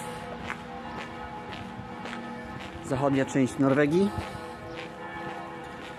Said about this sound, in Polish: Dzwony kościelne, nie wiem czy słychać.